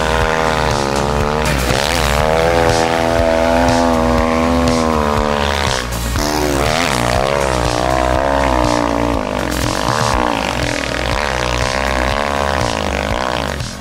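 An Avantis off-road enduro motorcycle being ridden, its engine droning loud and close with steady revving that rises and dips as the rider shifts, running continuously throughout.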